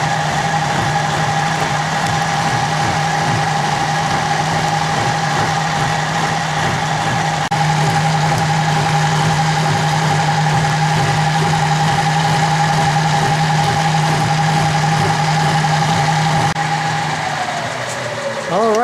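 A metal-cutting machine drones through its third and final pass with a dull cutter, about an eighth of an inch deep, raising a large burr, a steady loud hum with a constant tone that winds down at the end.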